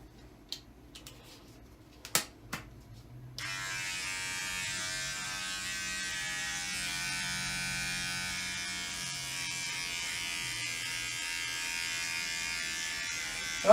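Electric hair clippers switch on after a few clicks and handling noises, then run with a steady, close buzzing hum that continues unbroken for about ten seconds.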